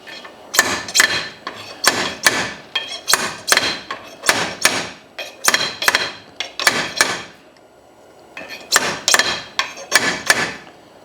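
Repeated sharp metallic hammer taps on a steering stem bearing race of a Honda XR250R motorcycle in quick bursts of several strikes, with a brief pause before another run of blows, close and loud.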